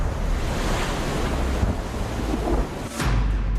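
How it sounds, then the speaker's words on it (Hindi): Strong wind roars over high sea waves crashing on the Bengal coast at Digha during Cyclone Yaas, a loud, continuous rush of surf and gusts with no speech. "तेज हवाओं के साथ समुद्र में ऊंची लहरें"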